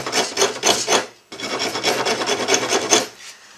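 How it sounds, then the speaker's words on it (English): Wooden guitar body wings are shaped against an abrasive surface, giving a loud, close, repeated rasping scrape in rhythmic strokes with a brief pause partway through, then resuming until it trails off. "Did I say bench grinder earlier? Belt sander."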